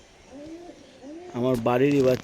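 Madras and Giribaz pigeons on a home rooftop give low rolling coos, first softly and then louder and closer, beside a speaking voice.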